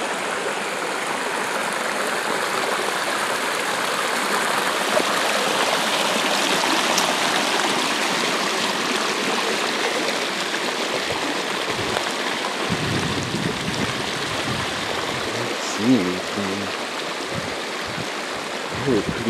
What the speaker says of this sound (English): This is called Big Creek.